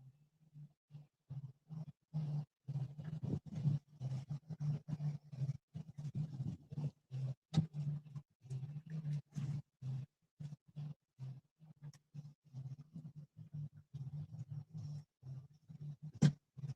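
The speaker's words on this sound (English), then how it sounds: "California sea lion." A California sea lion out on the water near a fishing boat gives a long run of short, rhythmic barking grunts, close and fairly loud, with a brief pause between each call.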